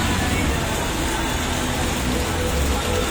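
Heavy rain pouring down at San Francisco, Agoo, La Union, a loud, dense, unbroken hiss of water that fills the whole stretch, with no talking heard.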